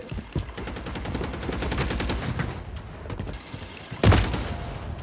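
A sentry gun in a first-person shooter fires rapid, sustained automatic bursts that rattle on steadily for a few seconds, then end in a louder, heavier blast close by.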